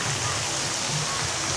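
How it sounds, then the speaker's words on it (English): Water constantly spilling over a small lifeboat feature at a resort pool, a steady broad splashing rush with no breaks, fairly close and even in level throughout. "There's like a little lifeboat right here, just constantly spilling water over"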